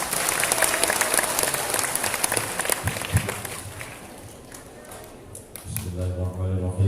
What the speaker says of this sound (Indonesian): Tepuk tangan dong jamaah.